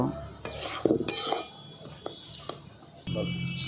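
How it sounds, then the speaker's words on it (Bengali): Sago and sugar being stirred in a pan, a spoon scraping and tapping the metal in short irregular strokes over a soft sizzle, close and fairly clear. "চিনিটা দেওয়ার ফলে একটু জল বেরোবে সেটাকে আমি কিন্তু এইভাবে নেড়ে নেড়ে একটুখানি শুকনো করে নেব"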